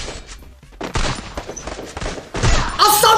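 Rapid bursts of M1887 shotgun fire in Garena Free Fire, several sharp close blasts in quick succession with a bright ringing flourish at the end.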